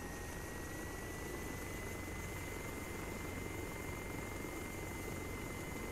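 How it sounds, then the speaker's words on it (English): A Chinook helicopter in a military video game gives off a constant, even rotor and engine drone with a thin steady whine, unchanging and uninterrupted from start to end. "Damn it, they did spawn us a Chinook."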